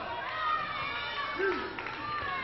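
A wrestling arena crowd jeers and shouts at a wrestler, a steady roar of many voices with swelling peaks, heard under a commentator talking.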